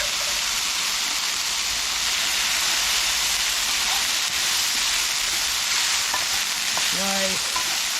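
Pasta dropped into a hot pan with oil and browning mushrooms sizzles in a loud, steady, close hiss, with a few faint utensil clinks near the end.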